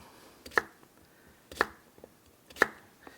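Knife chopping potatoes on a cutting board, three crisp evenly spaced chops with small taps between, close and clear in a quiet kitchen.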